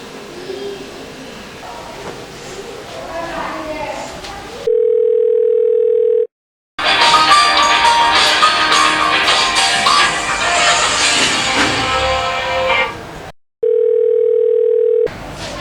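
A mobile phone call goes unanswered, with two long steady ringback tones sounding alone between stretches of noisy background and a voice.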